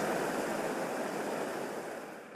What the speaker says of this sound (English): the banks were breached and water began to cascade into St Asaph